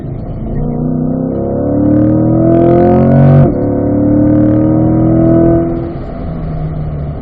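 A race car accelerates on a track through the gears, the engine note climbing steadily, dipping at a shift and climbing again, loud and close as if heard from inside the car.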